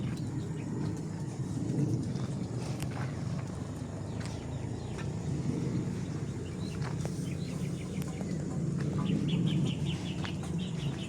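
Hens in a yard cluck while laying eggs. The steady low clucking and murmuring from several birds is close, with occasional sharper calls and faint background noise throughout.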